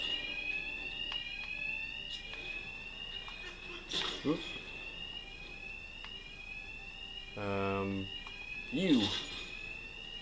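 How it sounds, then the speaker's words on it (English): Alarm ringing steadily in the Batman: Arkham Knight video game, a continuous repeating electronic tone running throughout, with brief game voices and combat sounds breaking in over it. "My attacks will be covered by the noise of the alarm."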